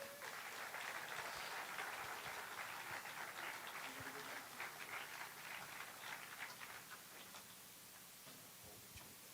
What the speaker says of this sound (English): Big round of applause, Gillian Rayner.